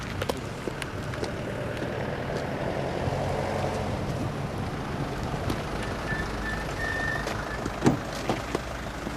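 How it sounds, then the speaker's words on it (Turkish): A dolmus minibus arriving in a neighbourhood: a continuous low vehicle rumble and engine hum with faint beeps and clanks, heard close over a few seconds. "Evet dolmuşumuz geldi."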